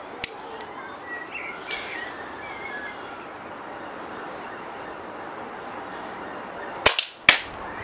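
A vintage 1925 Webley MK1 .22 air pistol fires once, a sharp crack near the end followed quickly by a second snap, after long quiet outdoor ambience.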